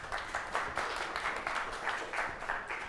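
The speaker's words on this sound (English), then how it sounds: "Hey, nice applause" A conference audience at a consensus-protocol engineering event gives steady applause, a crowd of hands clapping at moderate volume with some slightly rhythmic individual claps audible within the wash, continuing unbroken and without speech.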